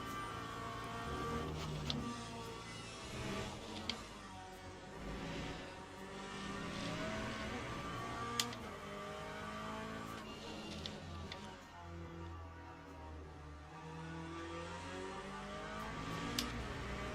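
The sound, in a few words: GT3 race cars lapping Imola in video game Le Mans Ultimate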